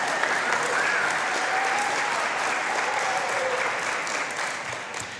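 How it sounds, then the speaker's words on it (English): A congregation at a New Thought spiritual gathering in Middle Tennessee claps steadily for about five seconds, a dense even wash of applause that fades slightly toward the end. "You can clap for him"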